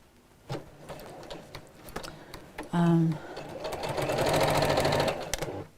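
A domestic sewing machine stitches down the side of a sewn project, a steady whirring run that swells in the second half, with brief clicks and a short low hum beforehand, close and fairly loud.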